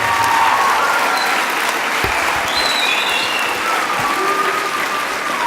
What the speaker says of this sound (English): Can we get another round of applause for these wonderful teachers and students up here?